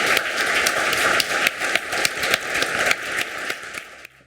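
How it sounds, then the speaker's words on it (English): An audience claps for a panel at a public talk on veterans and PTSD, a dense, fairly loud round of applause that gradually thins out and stops. "Can we have a round of applause for this terrific panel?"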